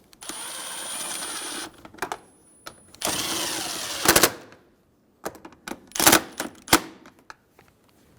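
Power tool tightening the air box bolts on a 2000-2007 Ford Focus, with several short whirring bursts and ratcheting rattles, loud and close, separated by quiet gaps.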